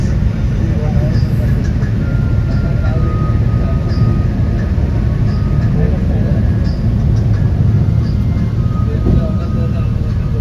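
The Darjeeling toy train runs slowly on its mountain railway, sharing the road, in a loud, continuous close rumble of wheels and running gear that holds steady throughout.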